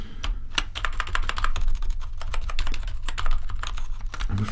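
Rapid keyboard typing as a keyboard is tested before sale, many quick clicky keystrokes in an irregular rhythm, close and fairly loud, with no speech.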